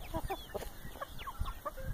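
Farmyard turkeys, young males and a female, give a run of short clucks and gobbling calls at close range, several overlapping over about two seconds with no talk.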